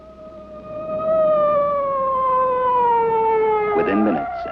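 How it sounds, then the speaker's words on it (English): An ambulance siren in a 1963 Astroboy cartoon wails in one long tone that slowly slides downward in pitch, then a short burst of clattering noise cuts in at the end. "Within minutes, an ambulance was on the scene."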